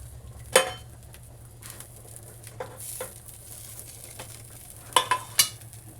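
Pav bread rolls being lifted off a hot griddle, with soft sizzling under a few sharp metallic scrapes and clinks of a spatula, close up.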